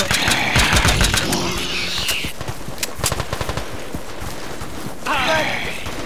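Automatic gunfire bursts ring out in a dark zombie shooter game, with a rumbling engine-like drone beneath, sharp repeated shots clustered through the middle and a hissing swell near the start and end.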